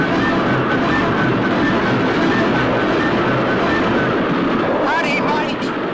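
A train rumbles with dense, continuous, loud rolling noise in a vintage Supercar TV puppet episode, with a brief whistle-like sweep near the end.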